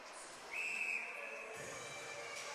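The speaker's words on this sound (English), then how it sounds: "the whistle's going to go here" A referee's whistle sounds in a single sustained blast at a senior ice hockey game between the Truro Bearcats and East Hants Penguins, moderately loud against the arena's steady crowd and rink noise, with no talk.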